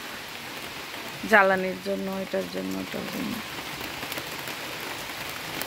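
Heavy rain pours in a dense, constant hiss of drops on surfaces, with a brief stretch of someone speaking near the start.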